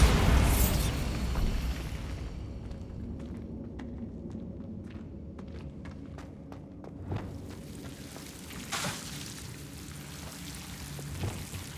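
A Bombarda blasting spell in Hogwarts Legacy bursts loudly at the start, then fades into scattered crackling debris and small pops that trail off over several seconds.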